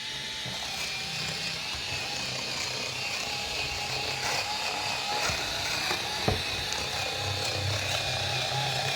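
Ryobi electric scissors running in a slower eco-style mode while cutting, a steady motor hum with occasional snips and small clicks, close and continuous with no talking.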